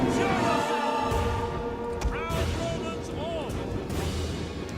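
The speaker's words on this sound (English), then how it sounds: "Alright, you guys can fire at will." Massed troops firing volleys in the video game Total War Rome 2, a dense, continuous battle din of overlapping shots and crashes, with swooping whistling sounds, loud and sustained throughout.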